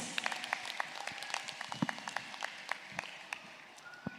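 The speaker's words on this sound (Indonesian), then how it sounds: "kita beri tepuk tangan yang meriah untuk Ananda Danis." Sparse, scattered clapping from a small audience at an elementary school tahfidz graduation ceremony, with individual claps popping out irregularly at fairly low volume throughout.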